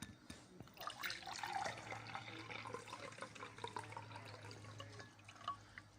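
Water running and splashing steadily into a vessel, with small drips and trickles over a low background hum, no voices.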